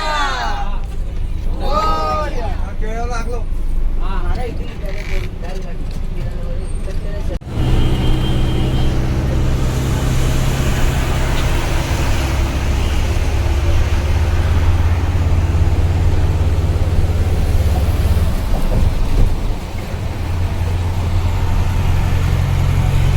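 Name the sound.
car driving off on the road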